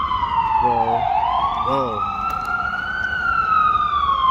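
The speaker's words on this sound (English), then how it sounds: "Let the sirens go." A wailing emergency siren sweeps down and back up, loud and nearby, with brief voice-like tones in between.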